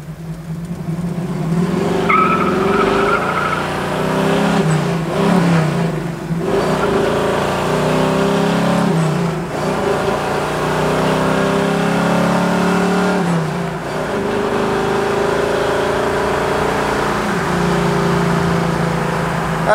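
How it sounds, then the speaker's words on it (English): A 1969 Chevrolet Camaro SS with a 454 V8 pulls hard through the gears, its loud, continuous roar rising in pitch and then dropping at each shift, with brief gaps between gears. "Running through the gears and see what kind of pull this 454 has here."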